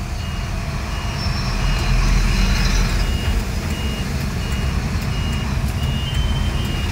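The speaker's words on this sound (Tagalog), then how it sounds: "Ang sobrang traffic sa highway." Heavy traffic on the Lopez to Gumaca highway in a Philippine province forms a loud, constant roar of trucks and cars, with a vehicle's reversing beeps repeating throughout.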